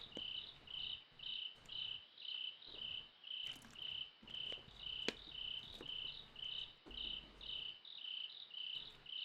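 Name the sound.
cricket chirping in the visual novel video game Kagetsu Tohya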